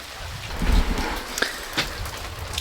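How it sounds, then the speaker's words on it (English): Rain falls steadily outdoors on a wet day at a house under renovation, a continuous soft hiss with a few scattered heavier drops and low rumbles. "It's raining."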